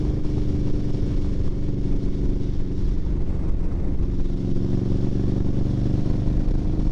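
A 2021 Indian Scout Bobber Twenty motorcycle riding through a canyon, with a loud steady engine drone and heavy wind rumble throughout, close to the rider and without a break.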